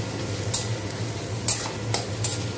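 Onions frying in a pan over a gas flame give a steady, close sizzle, broken by a few sharp scraping stirs at roughly one-second intervals.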